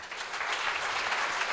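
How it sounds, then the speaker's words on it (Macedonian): Applause from an audience at a bridal fashion show, a dense, steady clatter of clapping hands throughout, full and close with no break. "Ве замолувам за огромен аплауз"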